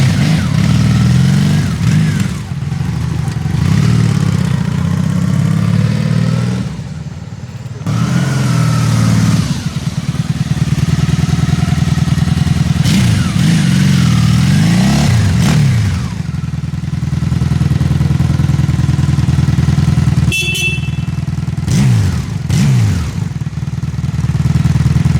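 A 1999 Honda Magna VF750 V4 middleweight cruiser rumbles loud and close, its engine idling with a deep throb and repeatedly revving up and dropping back in throaty swells, with no voices over it.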